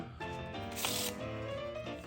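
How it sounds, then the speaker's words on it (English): A deck of playing cards is shuffled close up during a color-changing card trick, giving a continuous riffling flutter with a brighter burst of rapid card snaps midway, with no talking. "Just take the cards, we can give it a quick shuffle, just like so."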